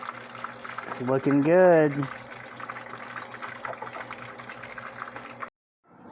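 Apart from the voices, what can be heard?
skinned crappie fish frying in a pan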